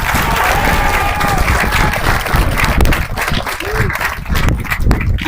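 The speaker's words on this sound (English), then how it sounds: "Give them a round of applause, graduates." Graduation ceremony audience bursts into loud, sustained applause and cheering that fills the hall, with steady dense clapping throughout and scattered crowd voices underneath.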